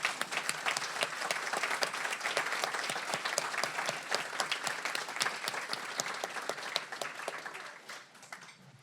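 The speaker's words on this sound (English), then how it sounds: "How about just one more round of applause, please?" At a fellows' closing dinner, guests give a round of applause, crisp individual claps clearly audible within the steady crowd clapping, which tapers off near the end.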